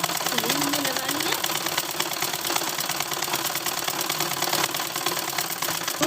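A sewing machine runs continuously while stitching a school uniform salwar, a steady close mechanical chatter with a fast rhythmic tick, with no pauses throughout.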